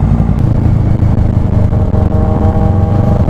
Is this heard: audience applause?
no